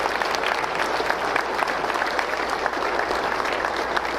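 Crowd applause at a political campaign rally for governor, a continuous even wash of clapping held at a moderate, slightly distant level throughout.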